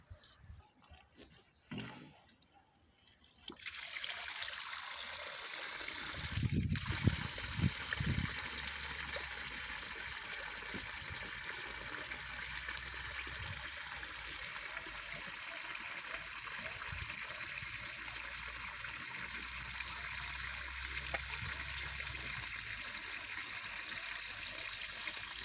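Water gushes steadily through a culvert pipe running under a road, a loud continuous rushing flow that starts abruptly after a few seconds and holds for the rest, with brief splashes early on and no talk.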